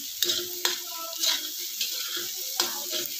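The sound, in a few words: stirring village egg bhurji frying in pan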